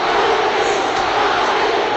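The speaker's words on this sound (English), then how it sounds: "And you can hear the chant in the background." A huge boxing crowd of over 21,000 at Madison Square Garden roars and chants for Muhammad Ali during his fight with Joe Frazier, a dense, steady, loud wall of voices with no separate speech.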